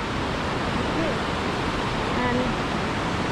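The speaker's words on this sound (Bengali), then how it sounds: "ওই দূরে কোথাও থেকে একটা ঝর্ণার জলটা আসছে" Steady broadband rushing water from a waterfall-fed mountain stream near Gosaikunda, Nepal, constant and fairly loud throughout with no clear breaks.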